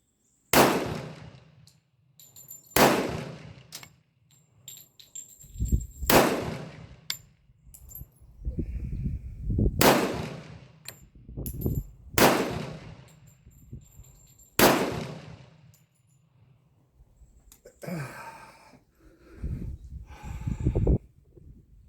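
A Tisas 1911A1 pistol fires at an outdoor range at 7 yards, with about seven loud, sharp shots spaced a few seconds apart and handling noises and brief talk between them.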